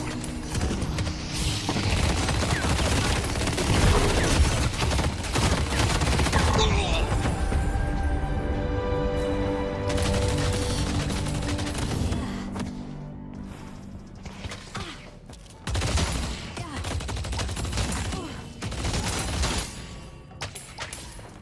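Gunfire in the video game Deadlock, with sustained bursts of rapid shots and booms over a busy layer of game effects and tones, and a person talking intermittently.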